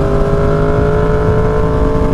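A Yamaha R1 motorcycle fitted with an SC Project CR-T exhaust runs loud and close, holding a steady, droning engine note with strong low rumble throughout.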